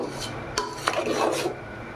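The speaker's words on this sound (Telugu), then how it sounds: "బాగా కలదిప్పుకోవాలి." A pot of pudina (mint) rice being stirred with a utensil, a few close scraping and rubbing strokes with soft clinks against the metal over about two seconds, no voices.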